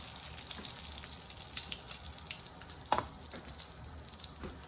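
Chicken cutlet coated in egg and cheese batter frying in a pan for chicken francaise, a steady soft sizzle with a few brief crackles and one sharper pop partway through, no voices.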